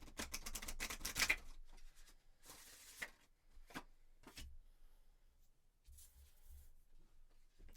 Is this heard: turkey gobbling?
no